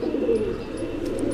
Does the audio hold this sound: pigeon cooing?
yes